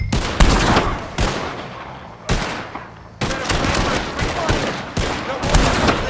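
Gunfire aimed at O'Driscoll gang members in the video game Red Dead Redemption 2: several loud, sharp shots and short volleys, each followed by a brief ringing tail, with the bursts spaced unevenly across the scene.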